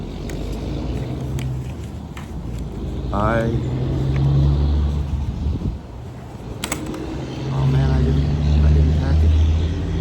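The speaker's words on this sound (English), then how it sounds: "Oh, we've got some trucks passing by." Trucks roll past outdoors, a broad rumbling engine noise that swells, fades and swells again, heard alongside a person talking.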